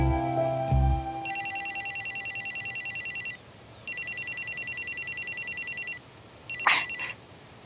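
A telephone rings in repeated bursts of trilling electronic chirps, three rings with short gaps between, fairly loud and clear over a quiet room with a brief knock at the start.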